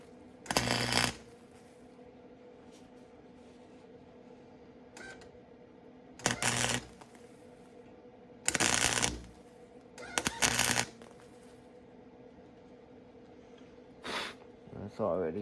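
A bolt is welded onto a cheap tripod: several short, crackling welding bursts, each lasting about a second, separated by stretches of low background hum.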